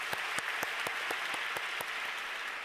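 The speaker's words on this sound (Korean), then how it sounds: "하나님께 영광의 박수 한번 올려드리겠습니다." An auditorium congregation at a prayer meeting claps in unison, strong evenly spaced beats rising above a wash of scattered applause, steady and fairly close for a few seconds.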